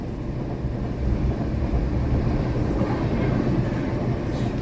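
A passenger train runs with a steady, heavy low rumble and broad mechanical noise that holds evenly throughout, with no pauses.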